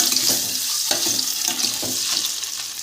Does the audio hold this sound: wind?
no